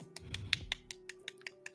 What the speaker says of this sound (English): he just clapped against his wrist because he's missing a hand